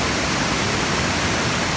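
Tat Chanan Waterfall, a white torrent crashing onto large rocks, roars as a steady, dense wash of broadband water noise, constant and unbroken throughout with no voices.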